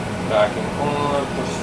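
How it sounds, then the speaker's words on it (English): The vacuum pump on a large Harvest Right freeze dryer running as a steady mechanical hum and whir, with a person talking over it. "You should hear the vacuum pump"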